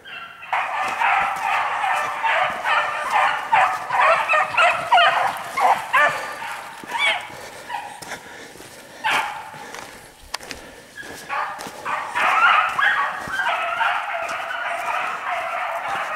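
Beagle pups running a hare outdoors, a near, continuous chorus of yipping, baying voices with overlapping barks rising and falling in bursts throughout.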